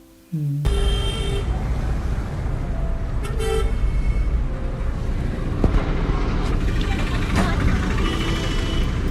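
City traffic jam with car horns honking repeatedly over the steady rumble of road vehicles and buses, a sharp burst of horns near the start and scattered toots continuing to the end.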